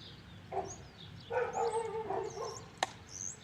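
Dogs barking faintly at a distance outdoors at Lincoln Park, a few separate yips and short barks spread over a few seconds against quiet background noise.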